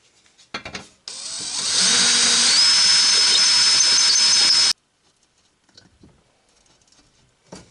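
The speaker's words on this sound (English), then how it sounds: "drill and tap, put some bigger bolts in it." A power drill whirs loudly for several seconds drilling bolt holes in a generator, its pitch rising partway through, then stops abruptly, followed by a few light taps and clicks.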